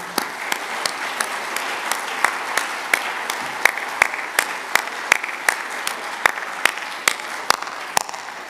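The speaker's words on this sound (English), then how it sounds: "So please, a quick round of applause and appreciation." Audience applause at a celebration-of-life gathering, a steady crowd clapping with a few sharp, distinct claps standing out, continuing evenly for the whole stretch.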